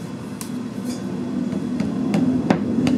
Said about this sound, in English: This hammer's a little big.